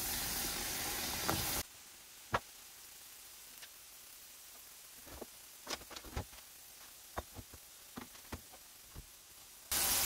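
Egg rolls fry in canola oil over low heat, giving scattered faint pops and crackles spread irregularly over a quiet background, with a louder burst of hiss at the start and end.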